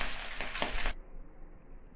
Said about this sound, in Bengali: দেখুন এখানে আমি ডিমটা ভাজতে দিয়েছি।